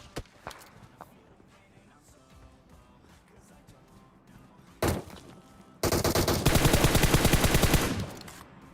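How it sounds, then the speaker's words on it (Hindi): Sniper rifle fire in the PUBG battle royale game: quiet footsteps and small sounds, then a single loud crack, followed by a sustained burst of rapid automatic gunfire lasting a few seconds. "यहाँ पे स्नाइपर वर्सेस स्नाइपर चल रहा है"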